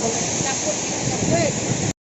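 A waterfall and its stream rush loudly and close by in hilly country, a dense continuous roar that holds steady and then cuts off abruptly, with a voice faintly mixed in.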